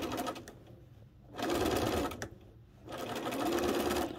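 Sewing machine stitching quilt pieces for a wedding ring quilt, running in three close bursts of steady whirring with brief pauses between them as the edges are matched.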